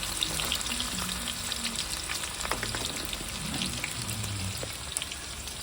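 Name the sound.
onion and chopped ginger frying in a pan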